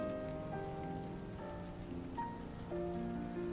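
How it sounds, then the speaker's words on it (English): Steady rain patters on a surface as a soft background loop beneath faint tonal hum, with even continuous drops and no speech. "it would probably also reverse the rain sounds"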